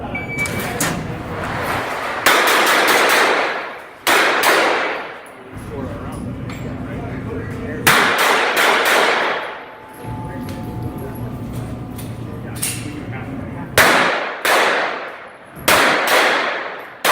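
Pistol shots at an indoor shooting competition ring out in sharp bursts, several rapid strings of loud reports separated by short pauses, with echo trailing each burst.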